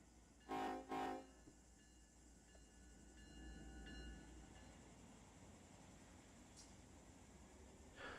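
A train passes in the Run 8 railroad simulator game: two loud, short horn-like blasts near the start, then a low rumbling swell that fades into steady background noise.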